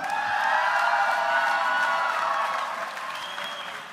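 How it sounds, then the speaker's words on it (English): Crowd applause at a PFC22 cage fight between Jordan and Bradford, a steady wash of clapping with scattered whoops and cheers from a large audience, sustained throughout and easing slightly toward the end. "give them one last round of applause"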